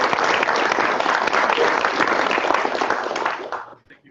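A crowd at a hackathon demo and judging day applauds a speaker, loud steady clapping that stops abruptly near the end.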